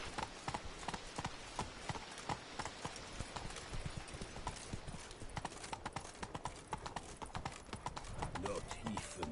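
Horse hooves clip-clopping in The Witcher 3, a steady rhythmic trot of sharp hoof strikes throughout, close and fairly quiet, with faint voices in the background.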